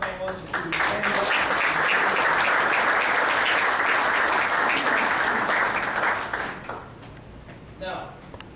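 An audience at a sports leadership forum gives the panelists a loud, sustained round of applause, full and dense from the start and fading away toward the end.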